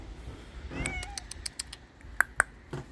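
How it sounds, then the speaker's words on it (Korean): A cat coming in out of light rain meows a couple of times, close and clear, with rain patter and a few sharp ticks and clicks around it. "지금 야옹이를 불렀어요."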